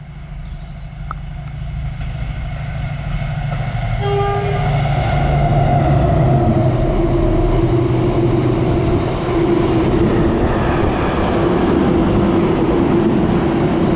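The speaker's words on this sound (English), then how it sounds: "here is the Irvine Caledonian Paper Mill to Aberdeen Waterloo train in Disco Lights" A train from the Caledonian Paper Mill at Irvine to Aberdeen Waterloo passes through Irvine, its loud, steady rumble building and holding, with a brief horn tone partway through and wheel noise throughout.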